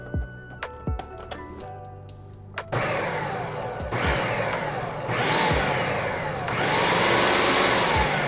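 A food processor pulses a spotted dick pudding mixture in several short, loud motor bursts, each spinning up with a rising whine and cutting off, preceded by a few light taps and clatters.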